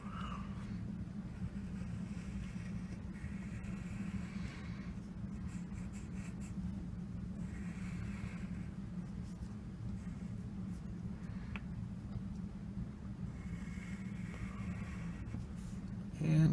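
Pencil drawing lightly on paper, a soft continuous scratching with periodic bursts of strokes, heard close over a steady low hum, no talk.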